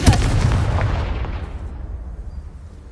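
A Confringo fire spell bursts in Hogwarts Legacy, a loud booming blast right at the start whose rumble trails off and fades over a few seconds, with no talk over it.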